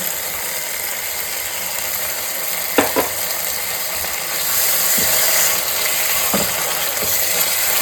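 Beaten yogurt goes into sizzling masala in a pan for a crab and potato curry, bringing a steady frying hiss, a few sharp metallic clicks from stirring, and a fuller sizzle afterward.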